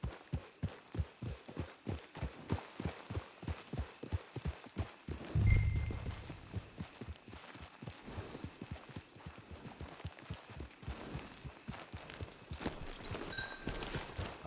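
Horse hooves clip-clop at a steady walking rhythm through Red Dead Redemption online gameplay, the even thuds close and continuous, with a brief louder thump partway through and a soft game ambience behind.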